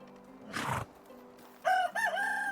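Chicken in the medieval farming game Medieval Dynasty: a short squawk followed by a clear, close cluck and crow-like call, loud and alone over a low background hum.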